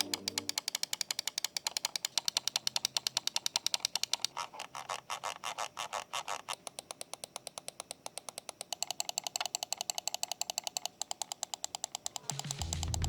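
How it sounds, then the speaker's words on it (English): Pulsar X2H ES gaming mouse with optical switches, clicked rapidly and repeatedly in fast even bursts, crisp close ticks in long runs with a brief change in tone midway. "the mouse switches sound like this"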